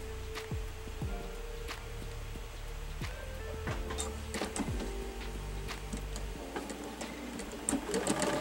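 A sewing machine stitches a woven quilt block in short bursts of rapid mechanical whirring, with brief pauses and light ticking and rustling as the fabric is turned under the needle.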